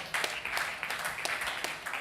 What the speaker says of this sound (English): Give this young man a round of applause.